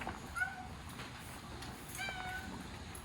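A cat meows softly a couple of times against a steady background hum, fairly faint and a little distant.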